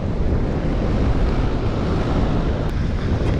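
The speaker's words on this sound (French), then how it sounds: "Il y a un grain, alors le vent est bien monté" Strong wind rushing across the coast of Île de Ré during a passing squall, a loud continuous roar buffeting the microphone with surf underneath.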